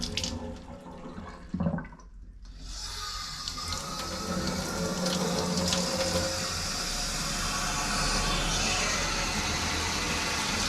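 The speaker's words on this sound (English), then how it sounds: "There's some good water pressure here." Water gushes from a house tap at high pressure, a steady loud broadband rush that starts after a short quiet gap and holds strong to the end.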